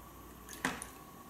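A small splash of vinegar, about half a fluid ounce, poured into a measuring cup: one short, soft liquid splatter with a faint drip after it, in an otherwise quiet kitchen.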